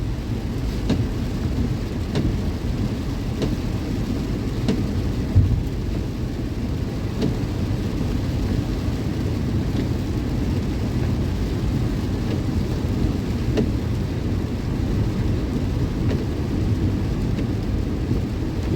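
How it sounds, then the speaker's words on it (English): Steady rain with low rumbling during a drive through a flood-prone mountain area, a continuous close wash of noise with occasional deeper thunder-like swells throughout, no voices. "the rain kind of takes away from the mountain view"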